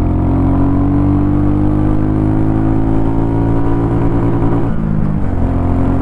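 A Royal Enfield Goan Classic 350 motorcycle accelerates in second gear, its loud close engine note climbing steadily in pitch, then dropping sharply near the end as the rider shifts up.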